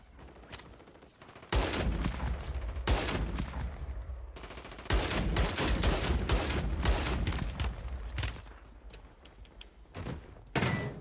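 Rapid bursts of automatic gunfire from an RPK in Call of Duty: Warzone 3 on Rebirth Island crack out in several loud volleys with short pauses between them, close and dense, with no talking over the shots.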